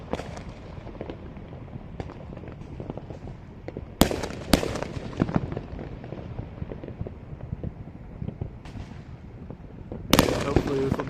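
Fireworks going off across a whole city during a celebration of America's 250th, heard as scattered crackles and pops with a few loud nearby bangs over a continuous rumble of distant bursts.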